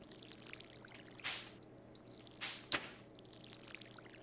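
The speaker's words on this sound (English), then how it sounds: "Next thing, we've got to water everything." A watering can sprinkles crops in the Stardew Valley farming game, with three short, soft splashy pours separated by pauses over a quiet background hum.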